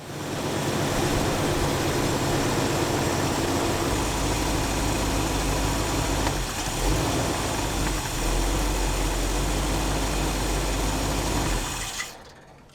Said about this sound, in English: the idle sounded a little better once you did it